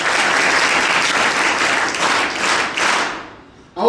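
An audience at a lecture marking Ambedkar Jayanti breaks into loud, close applause that swells, dips, then fades away near the end.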